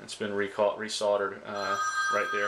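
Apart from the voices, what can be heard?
phone ringing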